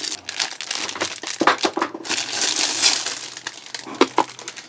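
Cellophane wrapping being crinkled and pulled off a wet palette during an unboxing, close loud crackling and rustling throughout, with no talk.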